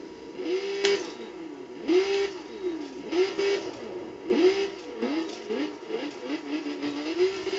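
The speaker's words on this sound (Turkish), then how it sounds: "Arkadaşlar araba sesini dinleyin." A car engine in the video game The Crew revs up and drops back again and again in a steady cycle, its whine rising and falling.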